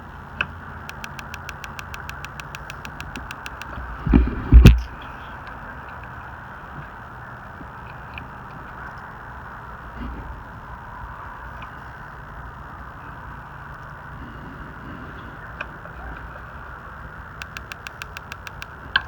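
A Mr. Heater Buddy Flex propane heater runs with a steady, low hiss and hum close by. A few faint ticks and one brief knock sound over it.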